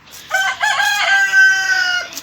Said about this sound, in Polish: O, kogut pieje.